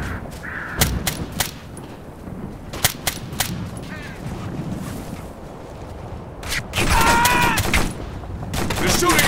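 Bursts of automatic and single-shot gunfire in the military shooter Operation Flashpoint: Red River, with sharp cracks scattered early and denser sustained fire near the end over a busy battlefield background.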